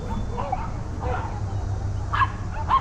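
Dogs yipping and barking at an outdoor dog show in a Chicago park, a few short barks at a moderate distance over a low background hum.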